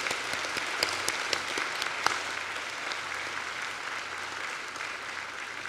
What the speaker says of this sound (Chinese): 现在请大家用热情的掌声欢迎这三位远道而来的贵宾。